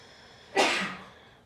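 A single short sneeze during a quiet yoga class, sharp and breathy, bursting out of quiet and trailing off into silence.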